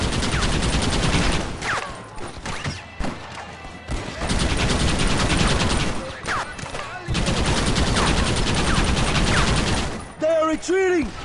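Gunfire in Red Dead Redemption (2010), bursts of rapid, dense shooting in long volleys with brief gaps, loud and close, with shouted voices near the end.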